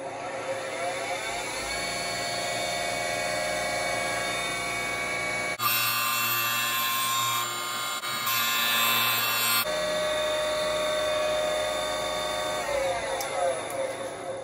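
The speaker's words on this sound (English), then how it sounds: "let's turn on the surface grinder" A surface grinder runs in a home shop during work on a Harbor Freight mini mill CNC conversion, giving a steady loud whir with tonal harmonics that grows to a harsher, brighter grinding burst midway, then settles back to the even machine hum.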